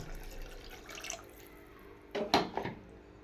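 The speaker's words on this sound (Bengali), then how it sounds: "এবার আমি এখানে দিয়ে দেবো পরিমাণ মতো জল" Water poured into a pot of lentils on a gas stove, with a quiet dribbling start and then a louder splashing pour near the end.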